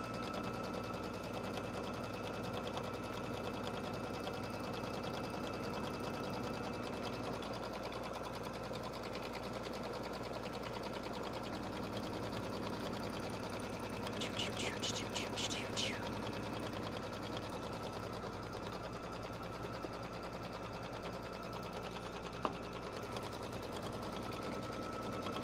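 A sewing machine stitches a quilt in a steady, quiet, continuous whir, with a short rattling burst partway through and a single sharp click near the end; no one speaks.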